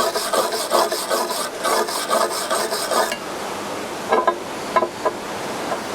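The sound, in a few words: wire brush scrubbing slag off a weld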